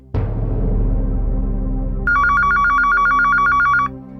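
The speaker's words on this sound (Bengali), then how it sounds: "আপনি এই ফোনটা ধরুন তো গুপ্তবাবু" A telephone rings indoors: a thump, then after about two seconds a loud, steady electronic warbling ring that lasts nearly two seconds before stopping.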